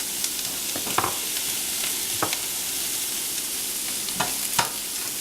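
Chopped onions sautéing in a pan, a constant bright sizzle with scattered clacks and scrapes of a spoon stirring, close and unaccompanied by speech.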